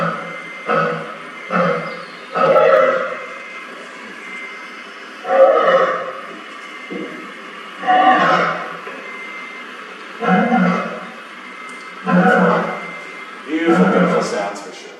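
Rare black-maned lions roaring at night just outside a tent in the Ethiopian wilderness, a loud series of deep, drawn-out calls repeating every second or two, close and dominant over the quiet background.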